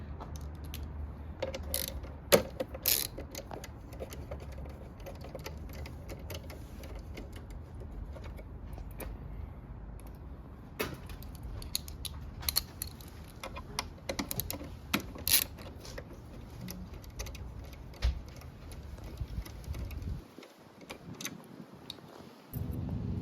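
Faint clicks and light metallic ratcheting come from a 5mm Allen key working bolts loose on the tail of a 2022 Yamaha YZF-R7 motorcycle. The taps come irregularly throughout, with brief pauses and no voices.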